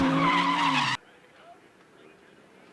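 A drift car slides sideways at a Capital Drift top-16 event, its tires squealing loudly for about a second before cutting off abruptly, leaving faint crowd and track ambience.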